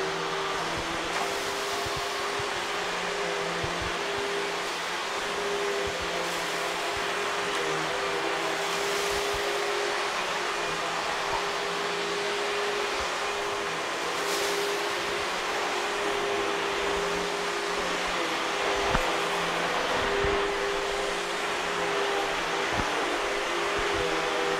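A Sanitaire Force SC5745 bagless commercial upright vacuum runs continuously with a loud, steady motor whine and airy rush, holding an even drone with slight surges as it moves.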